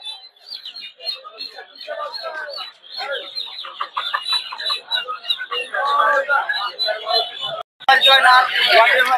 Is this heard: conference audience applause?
no